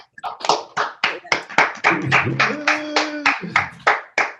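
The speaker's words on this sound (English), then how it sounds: "a round of applause for all the storytellers" A small audience claps for storytellers at a spoken-word performance, giving distinct, fairly close and loud claps in an uneven rhythm, with a brief murmur of voices partway through.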